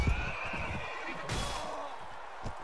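A horse whinnies in the Mount & Blade Warband medieval battle game, a loud drawn-out neigh at the start followed by a brighter burst of noise midway and faint hoof and battle sounds beneath.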